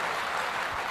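An audience at a business talk claps, a brief dense burst of steady applause filling the moment.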